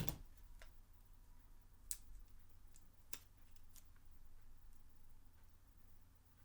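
A few light, crisp snips of scissors cut a small vinyl gnome beard piece during weeding, scattered quiet clicks in a near-silent room.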